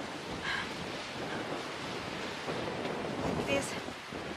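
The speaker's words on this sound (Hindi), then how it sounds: "इतनी तेज हवा चल रही है यहाँ पे," Strong wind blows outdoors on a Himalayan mountain trail toward Gaurikund, a steady roaring rush buffeting the microphone, with faint voices briefly audible in the background.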